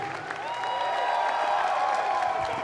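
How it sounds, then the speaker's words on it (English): Steady applause from a large audience at a Super Smash Con award show fills the room, dense clapping with some cheering mixed in, continuing throughout. "Can I get a round of applause for Sage, for Gimmer, for Vincent, for every"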